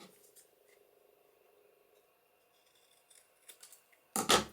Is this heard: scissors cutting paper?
yes